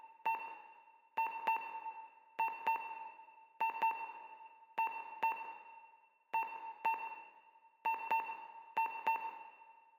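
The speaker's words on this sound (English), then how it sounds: "Rotary phone sounds." A rotary phone in the horror game Voices of the Void gives off repeated pairs of bright ringing tones, each pair separated by a short pause, in an even rhythm that continues for the whole clip.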